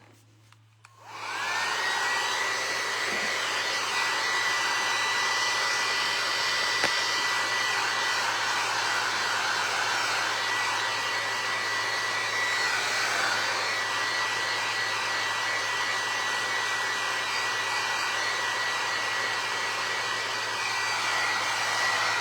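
Hair dryer blowing on a painted vinyl record, switching on after a moment and then running as a steady, even roar throughout.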